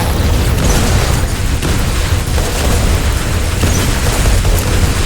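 Dense, continuous barrage of gunfire and booming explosions in the War Robots video game, loud and overlapping with no pauses, thick low-end rumble throughout.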